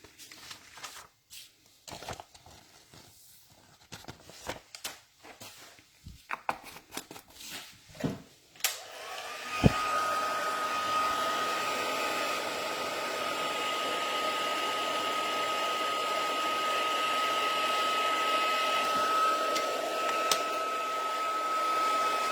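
A heat tool blows steadily to melt white embossing powder on a stamped card, a continuous whooshing hum that starts partway through after some light handling and shuffling noises.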